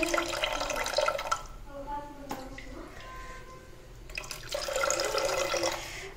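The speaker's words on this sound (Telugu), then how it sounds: "ఆ గ్లాస్కి నాలుగు గ్లాసులు నేను వాటర్ పోస్తున్నాను" Water poured from a glass onto measured rice in a pot for cooking amaranth leaf rice, two splashing bursts separated by a quieter gap with a sharp clink, a voice talking between the pours.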